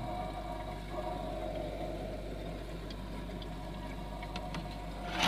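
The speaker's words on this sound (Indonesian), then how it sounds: "nah ini dia ada butiran es dan suaranya gemuruh ya" A running refrigerator compressor produces a steady, even low hum with faint mechanical whir, continuous and close throughout, with a few small clicks near the end and no talking.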